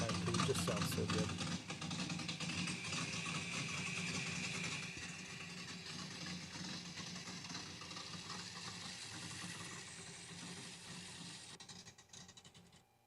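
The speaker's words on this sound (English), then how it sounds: "the small block Ford is probably one of the best sounding engines on the planet" A small block Ford V8 engine idles with a deep, rumbling burble, louder at first then settling and fading slightly, with a voice faintly underneath.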